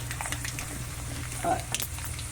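Mustard seeds crackling and frying in a hot pan for a rice tempering with sesame and moong dal powder, a steady close sizzle with a brief louder burst of popping midway.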